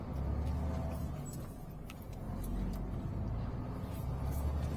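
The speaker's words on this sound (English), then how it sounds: "There's just traffic everywhere." Steady road traffic rumbles continuously around an HGV cab as the truck navigates roundabouts on a multidrop route in North Tyneside, a low, dense drone with no speech.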